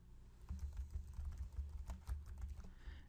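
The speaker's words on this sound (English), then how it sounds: "So I'm just going to simply type in Bob's email address." Steady typing on a computer keyboard while entering an email address, a quick run of close, light key clicks with small pauses, no talking.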